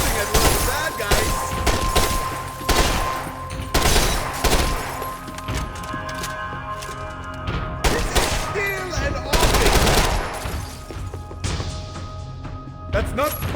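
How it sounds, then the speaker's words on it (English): Heavy gunfire in the Max Payne 3 video game: rapid bursts of automatic shots and sharp single cracks with impacts and smashing debris, loud and nearly continuous, with voices talking between the volleys. "Looks like you're shooting at one of the bad guys."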